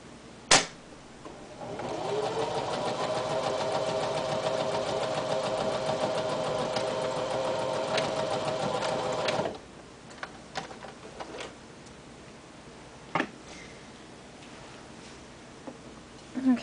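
A sewing machine stitches a patch onto denim jeans, running steadily for about eight seconds with a humming, rapid mechanical drone, then stopping, followed by scattered clicks and handling noises; a voice speaks at points.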